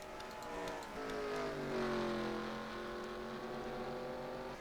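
Race cars at the 24 Hours of Sonoma on track, with engines whining and shifting pitch as they pass, a steady distant roar with rising and falling harmonics, faint and without voices.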